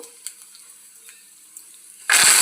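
A sudden loud burst of sizzling erupts near the end after a quiet stretch as seasoning spices are dropped into hot oil.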